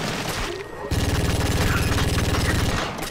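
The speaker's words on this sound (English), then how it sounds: "Now let's run up and shoot this guy if he's still alive." Rapid automatic gunfire from the GoldenEye Rogue Agent video game, a steady burst of evenly spaced shots starting after a brief lull and running loud and close to the end, over game background noise.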